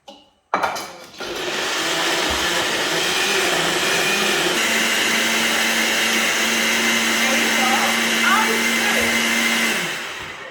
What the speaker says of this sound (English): Blend it for me, please.